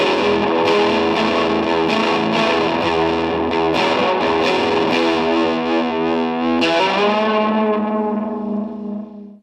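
An electric guitar plays rhythmic chords through modulation and reverb pedals feeding a distortion pedal, heavy distortion with swirling modulation and reverb, then a final chord rings out and decays.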